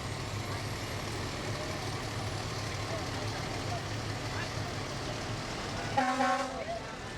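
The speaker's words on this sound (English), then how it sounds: "Their Pierce fire truck joining us tonight. That's a 2015 Pierce." A 2015 Pierce fire truck rolls past in an evening fair parade, its engine rumbling steadily under a constant crowd and announcer din, with a short horn blast near the end.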